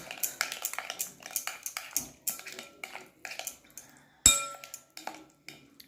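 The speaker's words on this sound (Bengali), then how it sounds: "এটাকে আমি কিন্তু ভালো করে নাড়িয়ে নেব" Packet yogurt for a paneer barbecue marinade is stirred with a spoon in a bowl: quiet, irregular clinks and taps against the bowl, with one sharper, louder clink partway through.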